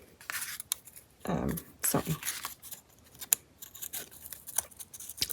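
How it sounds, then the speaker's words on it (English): Pinking shears cutting through paper in several crunchy snips, close and fairly quiet, mixed with a person talking throughout. "what are you doing with those pinking shears? Not supposed to cut paper"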